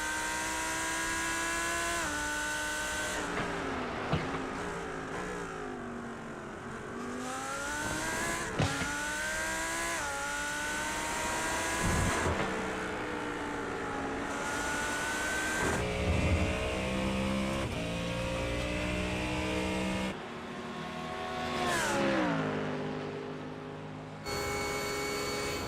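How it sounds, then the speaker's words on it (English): GT3 race cars in a sim racing game at Shell V-Power Motorsport Park, engines roaring continuously with shifting pitch sweeps as several cars rev and accelerate together, loud and close throughout. "Listen to these GT3 engines roar to life."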